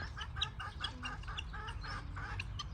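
Chickens cluck in a rapid, repeated run at mid distance while they peck grain alongside peacocks and turkeys on a farm one morning. The calls are fairly soft and come in steady, overlapping bursts.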